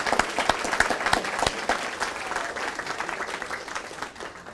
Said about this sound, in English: Please, let's give a nice round of applause for all these past honorees.